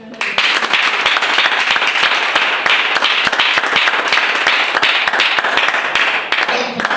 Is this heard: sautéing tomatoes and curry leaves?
no